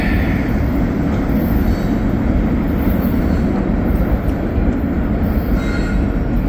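Lake State Railway SD70ACe diesel locomotives hauling a train past at close range, a loud, continuous rumble of engines and rolling cars with faint wheel squeal, no talking.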